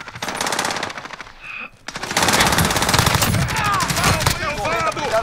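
Rapid machine-gun bursts and gunshots ring out loud and near in the Call of Duty Modern Warfare battle royale, dropping briefly near two seconds before heavy sustained firing resumes with a voice talking over it.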